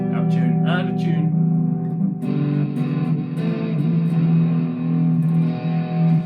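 A Jackson Dinky JS22 electric guitar, out of tune, rings through a distorted, effects-laden amp in sustained chords, with a sharper new strum partway through. It plays loud and continuous, with the notes ringing together.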